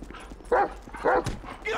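Chop the dog barks in GTA 5, three loud barks spaced about half a second apart with a growling yelp at the end, mixed over game noise and a voice.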